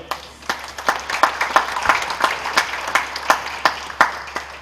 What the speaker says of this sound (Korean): 뜨거운 박수 보내주시고요.